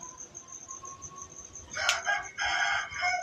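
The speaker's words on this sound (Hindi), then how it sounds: "और जी मुर्गे भी देन लागे ने अजाना" A rooster crows just before dawn at the end of the pre-dawn meal time, a loud bright call arriving in two bursts over faint steady insect chirping in the background.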